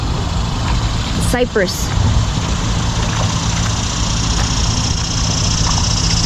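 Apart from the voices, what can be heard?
road traffic noise near highway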